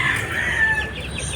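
A large farmyard chicken gives a drawn-out, rooster-like crowing call at moderate distance, a single sustained cry over a faint background.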